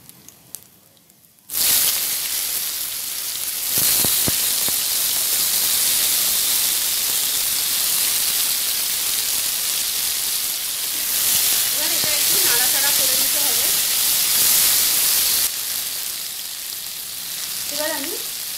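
Panch phoron and a single dried red chili hit hot oil for raw mango chutney, bursting into a loud, steady, close sizzle that holds for many seconds before easing slightly.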